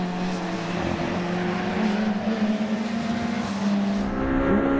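Citroën C2 rally car engine on a gravel special stage of the Promenade Stages Rally, a sustained strained drone as the car holds high revs, loud and continuous with no speech.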